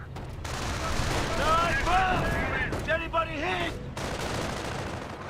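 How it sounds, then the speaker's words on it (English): Company of Heroes battlefield with a mortar hit amid sustained gunfire: booming impacts and crackling bursts of small-arms fire layered over a commentator's voice, with a sharper blast around the middle. "Great mortar hit there."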